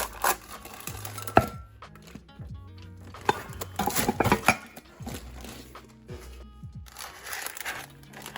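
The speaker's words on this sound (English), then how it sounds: "I'm gonna flip it over once onto a plate and then back over onto the cake board" A blueberry coconut cream cheese pound cake gets flipped onto a plate and back onto a cake board, heard as soft, irregular clinks and shuffling knocks of plate and board, fairly close and quiet, with no talking.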